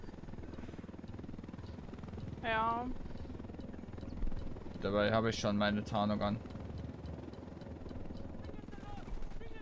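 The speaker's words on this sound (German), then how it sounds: "Ist leider ein Unidad-Heli" A low rotor drone from an enemy helicopter in the video game Ghost Recon Wildlands hums steadily in the background while players talk over it.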